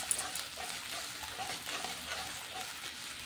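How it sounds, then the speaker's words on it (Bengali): Masala for an egg curry sizzles steadily in a pan as water is added and it gets stirred, a close, continuous hiss with soft scraping throughout and no talking. "তো এখন আমি এর মধ্যে জল দিয়ে নিচ্ছি অল্প, মশলাটা আরও সুন্দরভাবে কষানোর জন্য।"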